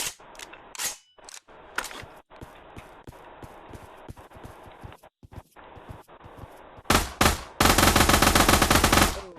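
SMG bursts in the VR shooter Pavlov, scattered single shots and short bursts at first, then a loud, sustained rapid-fire burst near the end, with handling clicks between.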